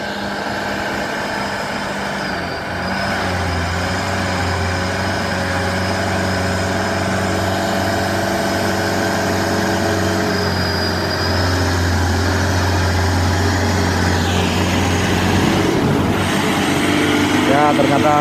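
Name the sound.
Hino truck engine climbing a steep hill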